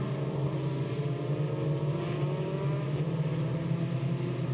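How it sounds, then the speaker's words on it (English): Racing cars run in a line behind the safety car through turn 9, a steady droning engine note holding at moderate volume with overlapping engine tones that shift gently, heard from a distance with no voices. "the cars behind the safety car making their way through turn number 9 now"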